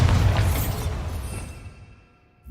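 A Bombarda blasting spell in Hogwarts Legacy goes off as one big booming explosion that starts loud and decays into a fading rumble over about two seconds.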